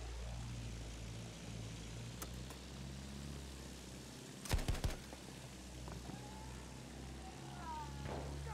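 Propeller airplanes fly overhead in the Battlefield 1 video game, a droning engine hum under faint background noise, broken midway by a short burst of sharp gunfire or explosions and followed by a rising whine.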